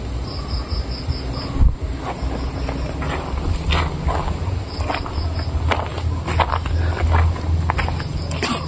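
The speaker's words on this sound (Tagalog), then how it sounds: "Lakas kasi ng hangin bro eh." Strong wind blows steadily outdoors as a dense, roaring rush that holds without pause. Crickets chirp continuously underneath it, and there is no talking.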